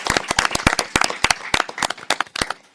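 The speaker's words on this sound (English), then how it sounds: "Let's give her a round of applause." A small group at a council meeting claps for a new staff member, a short burst of sharp, irregular hand claps close by that thins out and fades within a few seconds.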